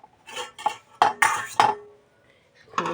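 Lid lifted off a pot of lentil dal in a home kitchen, a series of sharp metallic clanks and clinks of pot and lid, close and distinct, separated by short quiet gaps.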